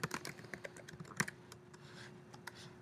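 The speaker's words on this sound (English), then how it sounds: "So you would type anything that you wanted here." Keystrokes on a computer keyboard while text is entered in a WordPress editor, quick irregular clicks up close, fading to sparser taps over a low steady hum.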